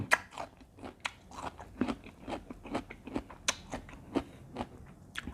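Close, crisp crunching as someone bites and chews spicy pounded cuttlefish salad, each bite a sharp crackle in an irregular rhythm of about a dozen chomps, with no talking.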